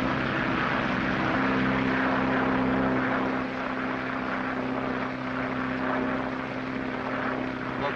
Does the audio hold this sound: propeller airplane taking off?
yes